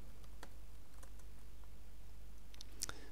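Keystrokes on a computer keyboard while entering commands on a remote TOPS-10 system, a few scattered light clicks spread over a few seconds against a quiet background hiss.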